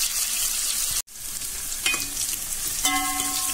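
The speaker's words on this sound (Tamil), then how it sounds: "இதை வதக்குறேன். வெங்காயம் கொஞ்சம் செவந்து வரட்டும்" Chopped onions sautéing in a pan for a dried fish curry, giving a steady broad sizzle throughout with a brief dropout near the start and a couple of faint utensil clinks later, no voices.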